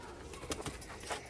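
Sialkoti pigeons coo softly in a short burst of low, throaty calls, faint over background noise.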